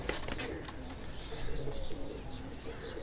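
Amritsari pigeons coo softly in a loft, a low murmuring coo that repeats under steady background noise, close and moderately quiet.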